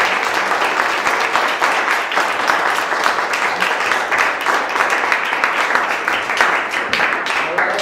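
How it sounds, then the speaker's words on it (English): Loud, dense applause fills a debate hall as the audience claps for both speakers, a continuous crowd of hands that holds steady throughout with no break. "So maybe we could give a round of applause to both speakers."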